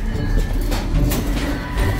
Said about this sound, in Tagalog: ayan yung ice pigeon